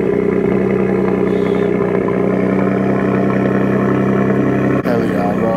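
A 4th gen Cummins diesel in a truck on 24x14 wheels, built for 600 horsepower, idles loud and steady just after a cold start, a deep clattering drone that holds constant with one brief dip, close up.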